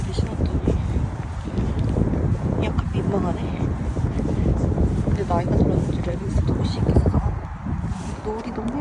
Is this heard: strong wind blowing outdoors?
yes